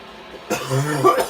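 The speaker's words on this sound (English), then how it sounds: "see? I coughed." A single rough cough from a man, close and loud, following a brief quiet moment and trailing into a throaty, slightly voiced exhale.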